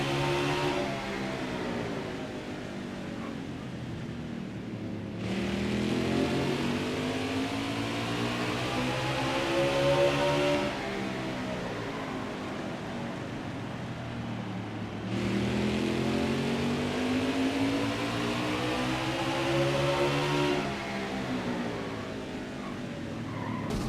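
Race car engines in NASCAR Heat 5 roar around Martinsville in a steady, loud drone, the pitch swelling and falling in repeating waves every few seconds as the cars accelerate down the straights and brake into the turns.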